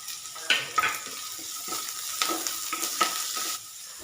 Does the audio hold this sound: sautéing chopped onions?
yes